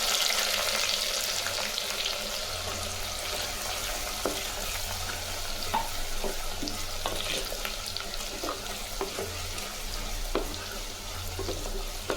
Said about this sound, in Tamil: வெங்காயம் நம்ம வதக்கிறதுக்கும் போட்டுருக்குறோம்